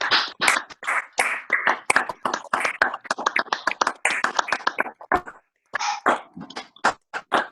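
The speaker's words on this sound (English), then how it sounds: "Make an applause to Professor Lacalle" Online audience applause for economist Professor Daniel Lacalle at a virtual Cenacolo di Valore gathering: bursts of clapping and hand taps from several participants, close and uneven, running continuously with a brief gap before a final few claps.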